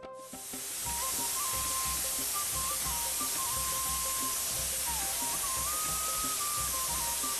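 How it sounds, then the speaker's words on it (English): A high-pressure spray nozzle on a pump-fed pipe blasts iron oxide sludge off Terafil filters at a community water purification plant in Karnataka, giving a loud, continuous hiss that rises and holds steadily, with a faint tone running underneath. "to clean the deposit of iron oxide sludge over terafils by fixing a high-pressure pipe with a spray nozzle to the pump"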